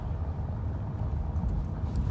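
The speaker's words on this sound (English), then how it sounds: "I love hearing these streets." Steady low rumble of a car driving along city streets toward the beach, with road and engine noise heard from inside the vehicle at a constant level and no talking.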